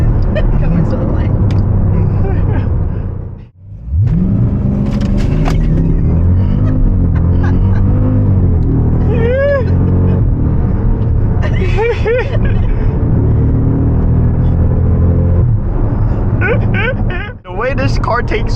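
A Jeep SRT accelerates hard from a traffic light, its engine roar rising and falling through gear changes as people talk over it inside the cabin.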